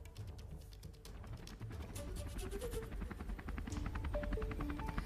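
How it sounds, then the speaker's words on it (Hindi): Mi-17 army helicopter flying over hills, a faint, distant rhythmic rotor chop with a steady engine drone, heard alone without talk. "नीचे नीलगिरी की पहाड़ियां और ऊपर से उड़ता हुआ ये MI-17 हेलीकॉप्टर, सेना का ये हेलीकॉप्टर"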